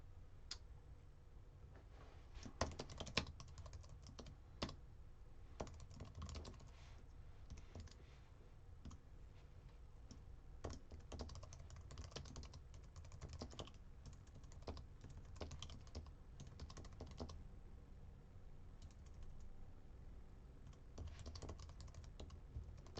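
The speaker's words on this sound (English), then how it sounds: "I'm just typing for a second." Steady typing on a computer keyboard, a fast irregular run of light clicks and taps close to the microphone, continuing throughout with low room hum and no talk.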